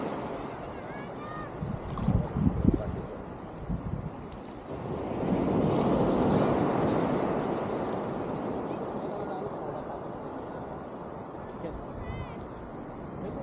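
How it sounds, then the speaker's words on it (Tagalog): Sea waves wash at a beach campsite in Dibut, San Luis, Aurora, a steady surf roar swelling midway, with wind buffeting the microphone and voices talking nearby. "Ang alon dito."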